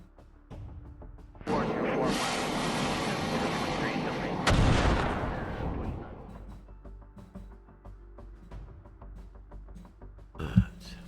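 Weapons fire in the Command: Modern Operations naval war game, a dense sustained barrage of booming artillery-like blasts for several seconds, then a sharp heavy impact, fading into scattered quieter shots and a final loud thump.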